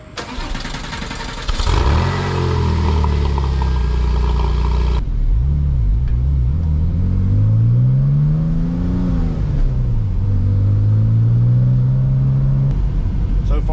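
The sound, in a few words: Porsche 911 Turbo driving and accelerating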